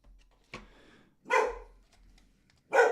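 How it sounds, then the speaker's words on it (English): A dog named Moose barks at night indoors, a sharp single bark followed by two louder, fuller barks spaced about a second apart, close by with quiet gaps between. "you barking like a little dummy over there, Moose, is not helpful"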